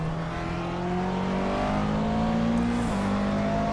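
A McLaren GT3 race car engine drones steadily from the cockpit in an iRacing endurance race at Zandvoort, a sustained high-revving onboard note with a brief shift in pitch near the end.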